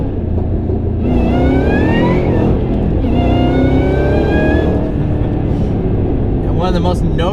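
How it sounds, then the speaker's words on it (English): A Ford Shelby GT500 engine pulls hard under throttle, its supercharger giving a high rising whine over the deep exhaust roar in two surges with a brief lift between, loud and close-miked inside the car. "one of the most noticeable characteristics about this car is the absolutely insane supercharger whine"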